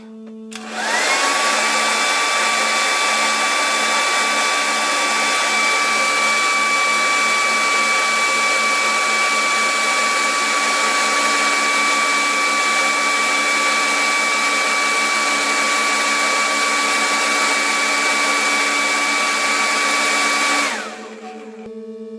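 A sustained, loud whooshing blast of air, like a hair dryer, blows into the side of a Eurorack case for about twenty seconds, with a steady high whine, then cuts off.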